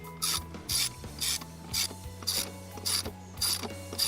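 A T20 socket bit on a ratchet clicks in about seven bursts of rapid ratcheting while undoing the small screws on a Jeep's throttle body, close and fairly loud, with no talking.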